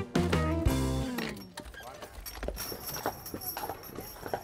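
A team of horses pulls a driven vehicle, their hooves clip-clopping steadily in a brisk, uneven rhythm, with light clinks of harness and faint voices underneath.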